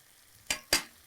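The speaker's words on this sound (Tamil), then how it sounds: "இந்த காயோட ஒரு 2 செகண்ட் நல்லா வதக்குங்க" Papaya being sautéed with ground coconut in a pan: two short, quiet scraping sizzles of stirring, closely spaced, otherwise near silence.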